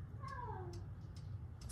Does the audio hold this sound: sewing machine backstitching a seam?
no